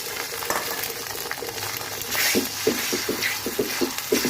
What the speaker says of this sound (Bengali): কালো জিরার সাথে ডিমকে ভালো করে ভেজে নেব।